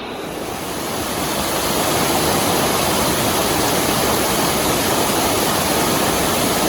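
Creek water rushes steadily beneath a small shaky suspension bridge in the Silver Creek Mining District, a loud, close, even roar of flowing water that swells slightly in the first second and then holds steady, with no voices.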